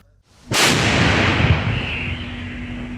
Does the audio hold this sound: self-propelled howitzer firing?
yes